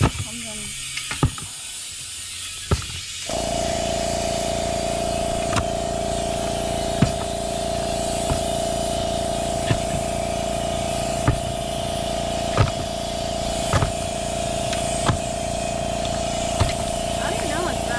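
A steady, loud hiss from a leak on a John Deere 575 diesel skid steer that starts a few seconds in and runs continuously, with periodic clicks and a person talking over it.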